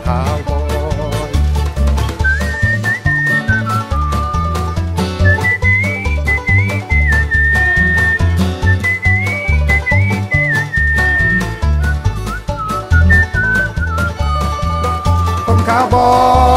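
Whistling along with a Thai cowboy song, a clear, loud whistled melody carried over upbeat band music with steady beat and bass throughout.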